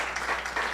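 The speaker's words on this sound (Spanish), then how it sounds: "Denle un fuerte aplauso, Señor, en esta noche." A church congregation at a Bible study evening gives a brief burst of applause, a dense wash of clapping that lasts under a second.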